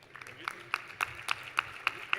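Audience at a Coparmex democracy forum in Mexico gives applause to welcome a panelist, heard as faint, sparse, evenly spaced claps in a quiet hall with soft background noise.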